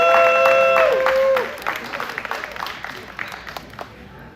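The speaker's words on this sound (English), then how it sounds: "Everyone give Alyssa a round of applause." Spectators at a US brewers national finals competition break into applause as a tonal sound fades out, the clapping continuing and gradually thinning over several seconds, with no talk over it.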